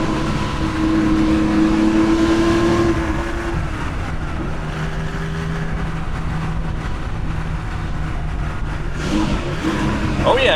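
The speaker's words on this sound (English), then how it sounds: "Oh yeah, I got a rev match there." An air-cooled Porsche 911 flat-six engine blips through a rev match, the engine note rising and falling steadily across the clip with a steady drone of road and cabin noise underneath.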